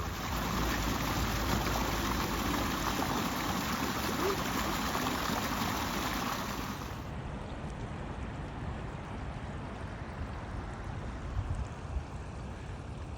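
Floodwater rushes and trickles steadily across an open field in the UK, well away from the river, a continuous broadband wash of moving water heard outdoors, loud and unbroken, with no one talking.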